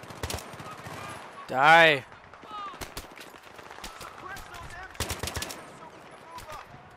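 Gunfire in the Battlefield 3 campaign on PC, with sharp clusters of rifle shots near the start and again around the five-second mark, a loud explosion-like burst in between, and someone talking over the action.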